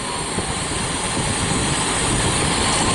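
A Jeep CJ engine idles steadily after a swap from a Carter BBD to a Weber 32/36 carburetor, a loud, continuous rumble with no talking over it.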